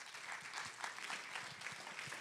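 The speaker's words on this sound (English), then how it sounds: "that was really nice golf clap that you guys gave us" A small mastermind-session audience gives a soft, polite golf clap, a quiet scattered patter of hands with individual claps audible in an uneven rhythm.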